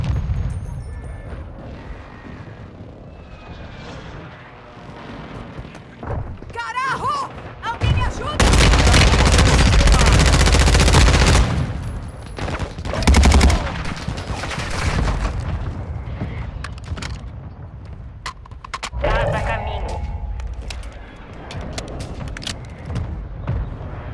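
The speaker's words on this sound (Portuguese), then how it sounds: "Estão atirando em mim aqui!" Loud, dense video game gunfire from Call of Duty: Modern Warfare II, with rapid automatic bursts and heavy booming blasts that swell into a sustained barrage before easing into scattered shots.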